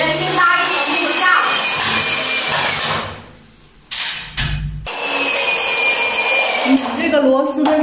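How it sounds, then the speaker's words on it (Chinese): Power screwdriver driving screws into a plasterboard ceiling over a wooden frame, a loud steady whirring that drops out briefly before resuming, with faint voices in the background. "拧这个螺丝的时候，尽量在这个石膏板的里面，因为这个螺丝拧完以后还要挂石膏"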